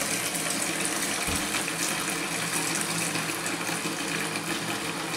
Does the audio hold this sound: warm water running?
yes